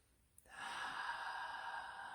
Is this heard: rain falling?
no